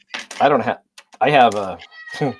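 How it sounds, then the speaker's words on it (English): A pet cat meows a few times in quick, drawn-out cries close to the microphone, with a voice mixed in. "that's my cat in the background if you hear meowing"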